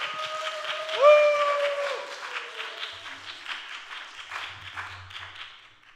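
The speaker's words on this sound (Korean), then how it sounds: "박수치면서 환영하겠습니다" A church congregation claps together in a steady wash of applause that swells at first, then gradually thins and fades out.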